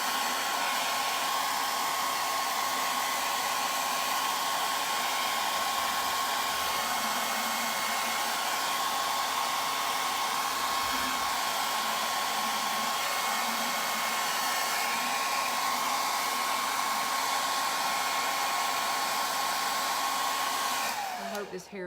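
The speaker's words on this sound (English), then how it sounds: "This hair dryer is not too loud." A hair dryer blowing steadily at close range, a loud constant whooshing hum with a faint whine, cutting off abruptly at the very end.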